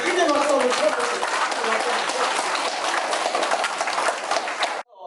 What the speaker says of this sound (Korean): 크게 박수를 쳐주세요.